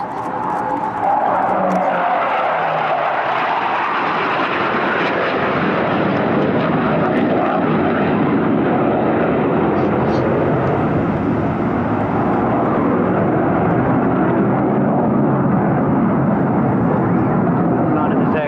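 A Hawker Hunter Mk58a jet pulling tight high-G turns at the Bournemouth Air Festival, its engine a loud, sustained roaring rush that swells and holds close overhead, with a commentator talking underneath.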